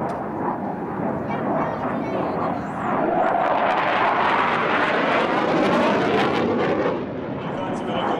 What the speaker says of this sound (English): on Sunday, he flew a regular MiG-21 UMD.